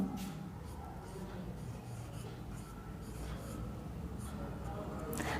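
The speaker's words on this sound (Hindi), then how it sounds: "इधर लिखता हूं।" Chalk or marker scrapes across a classroom board in short strokes during a Hindi-language Class 10 science lesson, faint and steady behind low room noise with no clear speech.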